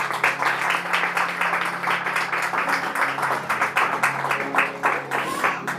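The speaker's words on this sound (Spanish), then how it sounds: "¿Cuánto le da un aplauso al Señor?" Applause during a Spanish-language church sermon, with distinct rhythmic clapping bursts, loud and close, pulsing through the whole stretch without speech.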